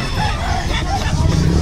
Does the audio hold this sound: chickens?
yes